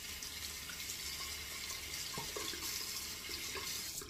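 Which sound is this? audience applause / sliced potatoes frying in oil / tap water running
tap water running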